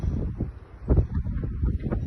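Strong wind on the Rock of Gibraltar buffets the microphone in low, uneven gusts, rumbling and roaring continuously with no voices.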